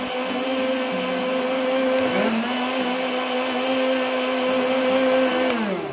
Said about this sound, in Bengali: এবার আমরা ব্লেন্ডারের সুইচটি অন করে দিলাম